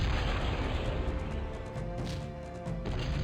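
Cannons fire in the Cossacks strategy game during a Ukrainian campaign march on Muscovy, with repeated heavy booms rolling over one another in a continuous, rumbling barrage and no voices.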